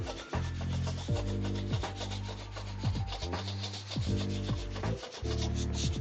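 An improvised roller smudger rubs across a pencil sketch on paper in repeated strokes, a close, scratchy rubbing with a low hum that stops and restarts every second or so.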